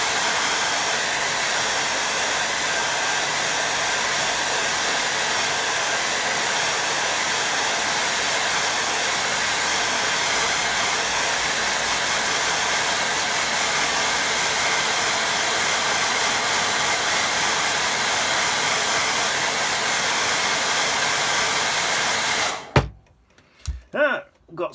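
A hair dryer blows steadily on a watercolour painting, a loud broadband roar held close for over twenty seconds before it cuts off abruptly near the end, followed by brief handling noises.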